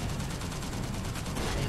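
Rapid aircraft machine gun fire crackles in the video game Toy Soldiers War Chest, a brief dense burst of continuous shots at moderate loudness.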